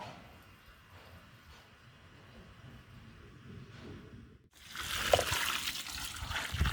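Wheat flour paste pours into a crock for homemade gochujang, a faint trickle that swells into a louder wet, gushing flow in the last couple of seconds.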